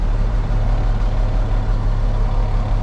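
A 1998 International 4700 truck with a DT466e diesel engine and an aftermarket IPR runs at a steady idle, a loud, even low rumble that fills the whole stretch with no talk over it.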